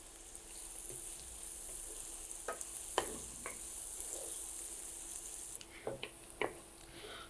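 A cup of onion and cumin seeds frying in oil, sending up a continuous hiss with scattered sharp crackles and pops and occasional stirring knocks, heard close and with no talking.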